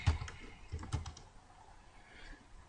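Quiet computer keyboard typing, a few clustered keystroke clicks near the start and around the one-second mark, then fading into faint room tone.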